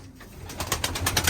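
Pigeons coo softly in rhythmic, repeated bursts inside a cold coop, a close but fairly quiet murmur with no talking.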